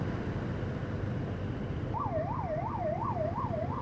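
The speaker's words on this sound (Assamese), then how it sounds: "যাব দি এম্বুলেঞ্চ" A wailing ambulance siren rises and falls in steady repeating sweeps over constant road and wind noise heard from a moving Duke 390 motorcycle, fairly loud and clear with no speech.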